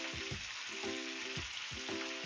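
Stuffed squid fries in a pan with a steady, close hiss of sizzling oil, dotted with small pops and crackles, fairly quiet and with no voices.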